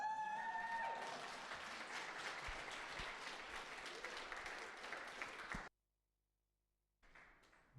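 Audience applause at an in-person meetup, a dense burst of clapping that runs for several seconds, stops abruptly, then briefly resumes more faintly.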